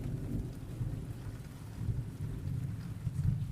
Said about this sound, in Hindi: आसमान में काले बादल घूम रहे थे, तेज हवा चल रही थी, दूर से बिजली की कड़क सुनाई दे रही थी